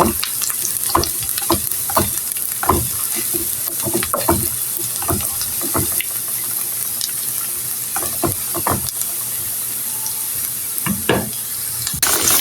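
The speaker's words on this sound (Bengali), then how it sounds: "এই তো পেঁয়াজগুলি আমি ব্রাউন করে ভেজে নিলাম" Onions and garlic fry until brown in a pan for eggplant bhaji, giving a loud continuous sizzle broken by frequent sharp scrapes and knocks of a stirring spoon.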